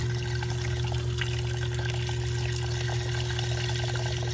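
Water runs steadily from a hose on an Eden 93413 digital water timer into a bucket, making a constant, even splashing pour for the whole stretch with no talk.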